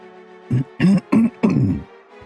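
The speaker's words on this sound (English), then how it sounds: "I really have to clear my throat today" A person clears their throat close by in four short, rough, low bursts, the last one longer, with a quiet pause after.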